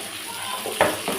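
Coriander and mint leaves sautéing in a pan as rice is prepared, a steady close sizzle with a few louder bursts of spatter toward the end, no voices.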